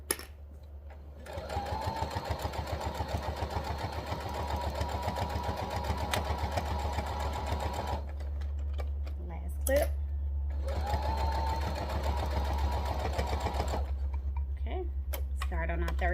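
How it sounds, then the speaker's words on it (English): A sewing machine stitching a fabric key fob, running in two long bursts of rapid rhythmic ticking over a low motor hum, with short clicks and handling noises in the pause between. "Sewing straight down."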